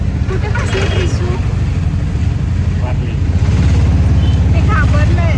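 Auto rickshaw ride in Chhattisgarh: a continuous close engine drone with road rumble that grows slightly louder toward the end, with faint voices now and then.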